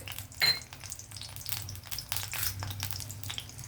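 Cumin, mustard seeds and dried red chilies frying in hot oil for a ginger chutney tempering, a soft close sizzle with faint crackle and a brief clink of a utensil near the start, no talking.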